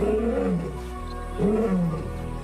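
Lions roar to mark their territory in big cat country, two deep, loud, drawn-out roars one after the other, each swelling and falling, with no voices over them.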